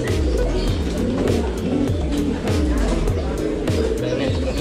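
Merpati Tomprang pigeons coo in repeated low, descending phrases at a busy pigeon market stall, close and steady, with crowd noise and occasional voices mixed in.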